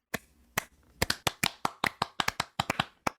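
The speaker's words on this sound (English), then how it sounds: "Claps for Brogan." A pair of hands claps about fifteen times in sharp, close, dry strikes, sparse at first and then settling into a quicker, uneven run.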